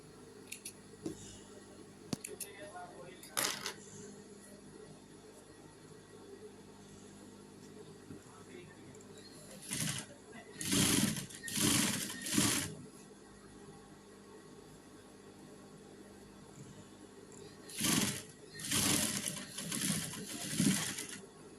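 A sewing machine stitches a cushion cover made from fabric scraps, in short loud whirring bursts separated by quiet stretches of faint handling noise.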